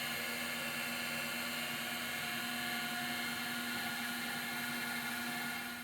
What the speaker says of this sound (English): I'm bringing this over to the stand mixer.